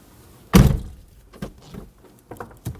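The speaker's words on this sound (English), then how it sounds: "now it's time to get in the car and see how your door handle works." A front door on a 2000-2007 Ford Taurus is opened from inside with the interior handle: one loud close thunk followed by a few softer clicks and latch knocks.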